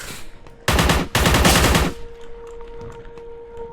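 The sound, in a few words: gunfire in video game Forgive Me Father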